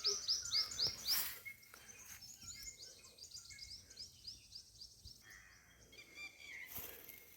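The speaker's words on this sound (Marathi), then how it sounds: "सकाळीच ना पक्ष्यांचे आवाज भारी येतात" Birds chirp and twitter in a quiet rural village on a pre-monsoon morning, with a bright burst of calls at the start and softer repeated tweets continuing over faint background hum.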